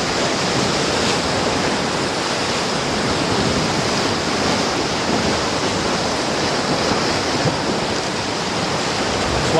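Ocean waves break on the shore in a steady, loud, continuous roar of surf with no pauses and no voices.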